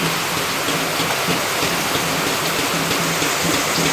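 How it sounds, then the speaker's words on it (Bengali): Rain leaking through holes in a damaged tin roof into a village kitchen makes a steady, dense wash of patter and drips that never lets up, close and fairly loud, with no voices. "আমার এই টিনটা ফুটো হয়ে গেছে টাপ টাপ টাপ টাপ করে বৃষ্টি পড়ছে"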